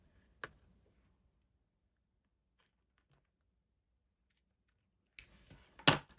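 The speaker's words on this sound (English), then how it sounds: "I will just cut these loose threads" Scissors snip loose threads on a fabric notebook cover: a single crisp cut, a long quiet pause, then a few more close snips and rustles near the end.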